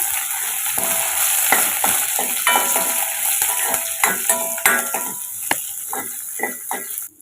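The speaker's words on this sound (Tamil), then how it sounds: "இதில் இப்போ நம்ம வெங்காயம், வத்தல், கருவேப்பிலை இதையும் சேர்த்துக்கலாம். சேர்த்துட்டு இப்போ நம்ம வதக்கிக்கலாம்." Onions, dried red chillies and curry leaves sauté in a hot pan, a steady loud sizzle broken by frequent clinks and scrapes of a spoon stirring, with no talking.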